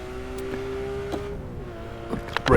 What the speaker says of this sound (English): Down into first gear for the hairpin.